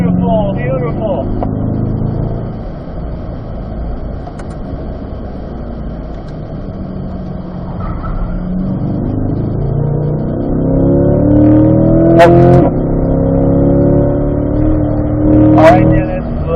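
A C8 Corvette laps a race track at a driving school, its engine droning steadily and rising in pitch through acceleration, with an instructor talking over the car throughout.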